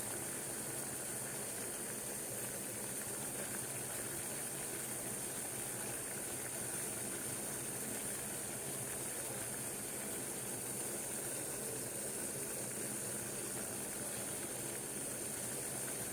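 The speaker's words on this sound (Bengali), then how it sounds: "আওয়াজ পাচ্ছ তোমরা জল ফোটার টকবক টকবক করে ফুটছে জল" Water boils hard in a pot used for steaming momos, giving a steady, close, hissing bubble that runs unbroken throughout.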